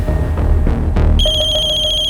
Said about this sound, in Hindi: नल्ले का नाम लिया और उसका फोन भी हाजिर है